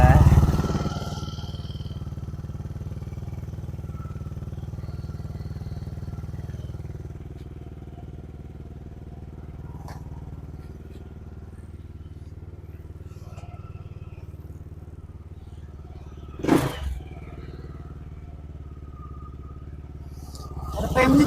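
A Yamaha scooter engine idles at an overly high RPM in a steady, buzzing drone that surges at the start and end, with a sharp clack midway.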